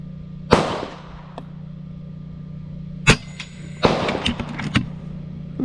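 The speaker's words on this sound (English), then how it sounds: "let's shoot a group" An FX air rifle fires at a target, each shot a sharp crack: one early, another in the middle and a quick cluster of snaps toward the end, over a low steady hum.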